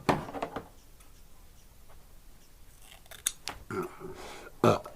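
Scissors cut through a Starlink satellite dish cable that was chewed by a dog, giving several sharp crunching snips spread out and close by, with quiet pauses between the cuts.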